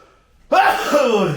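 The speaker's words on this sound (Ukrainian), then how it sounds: "я извиняюсь, зараз чихну" A single sudden sneeze bursts out after a brief silence, close and loud, with a sharp, voiced onset that trails off over about a second.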